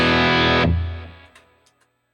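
A guitar chord rings through an HX Stomp rig stacking a Klon-style drive, amp overdrive and a compressor, loud and saturated at first, then sustaining and fading over about a second, with faint pick noises trailing after.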